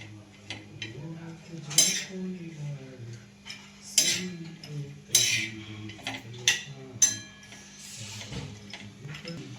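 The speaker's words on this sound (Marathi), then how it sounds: "मी तर हे सगळं आता परतून घ्यायचं आहे" Metal utensil clinks and scrapes against a pan while ingredients for misal masala are sautéed, sharp irregular knocks recurring every second or so over a low steady hum.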